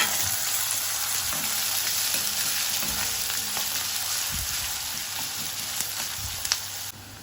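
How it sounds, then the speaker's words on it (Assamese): Onions and chillies frying in hot refined oil in a pan give a steady, close sizzle with occasional soft pops and crackles, running continuously without talk. "পিঁয়াজ, জলকীয়া এইখিনি দিম এতিয়া ইয়াত। অকণমান ফ্ৰাই কৰি লওঁ।"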